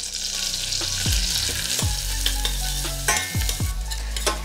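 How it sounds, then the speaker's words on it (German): Onions sautéing gently in olive oil for a prawn tagliatelle, a continuous close sizzle broken by several loud scraping sweeps of a spoon across the pan, with no one speaking. "Und dann machen wir dort die Zwiebeln mit hinein und dünsten sie schön an."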